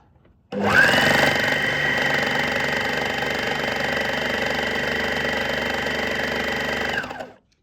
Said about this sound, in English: we are now going to overlock following the second guideline